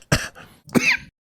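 A person coughs twice, close and loud, two harsh bursts separated by a short pause, during a casual podcast conversation.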